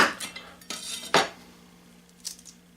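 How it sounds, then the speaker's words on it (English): Knife chopping food on a board while cooking on a Cubic Mini wood stove: a few sharp, irregular cutting knocks with light clatter, close and moderately loud, with a faint steady hum beneath. "Just chopping it all up."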